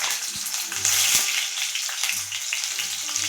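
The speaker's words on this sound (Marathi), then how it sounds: "तर पहिले कांदा फ्राय करून घ्यायचा तेलात." Onion frying in hot oil for chow mein noodles, a steady dense sizzle and crackle up close with occasional stirring knocks and scrapes, no talking.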